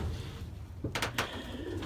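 Pigeons coo softly inside their loft box in a short, faint snatch of low calls with a couple of light rustles.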